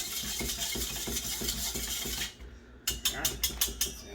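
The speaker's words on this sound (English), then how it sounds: "You just whisk it till it dissolves" A whisk stirs sugar and Kool-Aid into pickle juice with a quick run of close, rhythmic scraping clinks, then a brief pause and a few sharper separate taps of the whisk against the container.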